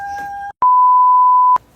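A steady electronic timer beep sounds loud and unbroken for about a second, coming right after a short two-toned chime and followed by a quiet room.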